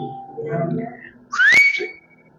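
During a church sermon, a preacher speaks briefly, then a single rising whistle blast sounds, produced by mouth to imitate a football referee's whistle.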